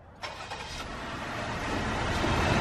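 A V6 car engine runs steadily outdoors in cold weather, a broadband rumble that starts with a sharp onset and swells gradually louder over a couple of seconds, close by, with no talk.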